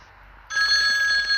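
A telephone rings inside the horror game Mental Hospital IV, a bright electronic bell tone starting abruptly and holding steady and loud after a moment of quiet room ambience.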